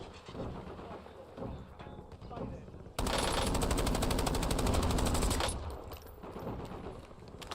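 Rapid machine gun fire in the Warzone shooter game, a dense sustained burst of shots for a few seconds, loud and close, with softer game noise before and after.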